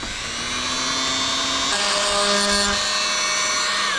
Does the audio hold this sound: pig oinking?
no